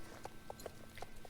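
Hooves of a Marwari horse cantering in Star Stable Online, a quick rhythmic clip-clop of about eight light beats in a rocking three-beat pattern, close and clear.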